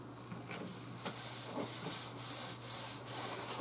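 Hand smoothing a vinyl design down onto a canvas panel: a steady close rubbing and brushing texture with a few soft scraping strokes, with no talking.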